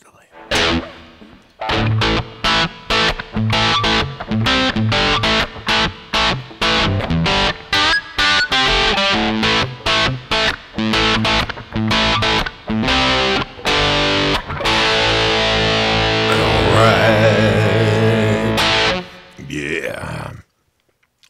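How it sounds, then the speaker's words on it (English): An electric guitar through a small Ammoon Pockrock effects processor plays a run of choppy, rhythmic chords and notes, each washed in reverb, ending in a long ringing tail. "just want to put a little reverb on it"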